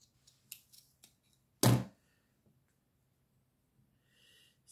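Paper for a handmade card is cut with scissors in a single short, crisp snip, close and distinct, surrounded by faint rustling and small taps in a quiet room.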